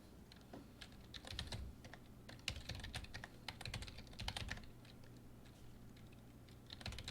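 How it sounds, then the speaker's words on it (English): Steady typing on a computer keyboard while registration details are entered into a program, with rapid irregular key clicks in bursts across the whole stretch and no talk. "Type in the information as appropriate."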